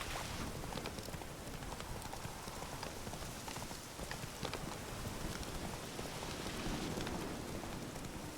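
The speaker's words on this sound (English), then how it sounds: "Looks like rain." Steady rain falls throughout an outdoor scene in The Witcher 3, a dense constant hiss of drops with a faint rhythmic clip-clop of horse hooves underneath and no talk.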